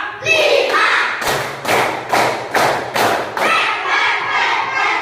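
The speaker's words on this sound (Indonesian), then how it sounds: "Tepuk lima." Schoolchildren in a classroom clap five times in unison, sharp, evenly spaced and loud, as part of a counting clap chant, with voices before and after.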